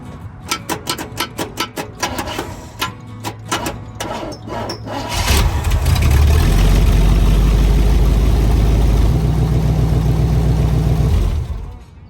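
A truck engine cranks through a run of sharp, rhythmic starter clatters, then catches and settles into a loud, low, rumbling idle that runs for several seconds before cutting off.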